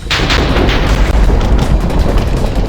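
A TNT hammer detonating in Minecraft gives a loud, continuous booming rumble with repeated blasts, dense and heavy throughout, with no voices.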